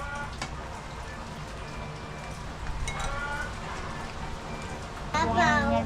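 Rain falls steadily on a surface outdoors, a constant patter with a few louder clatters near the end, while people talk faintly in the background.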